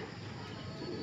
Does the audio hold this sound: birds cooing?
yes